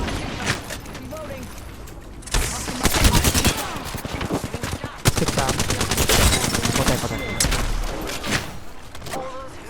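Rapid automatic gunfire in the shooter game Apex Legends comes in dense bursts that start and stop. It plays close and loud under excited talking from players.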